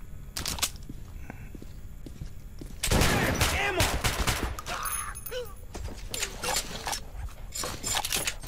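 Gunfire from the video game Metro: Last Light, heard as scattered sharp reports and a dense burst of shots over game ambience, mixed with footsteps and other in-game noises.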